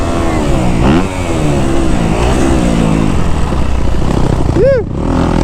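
A 2025 Yamaha YZ250F dirt bike revs hard throughout, its engine note rising and falling as it rips past nearby, loud and steady with a brief pitch sweep near the end.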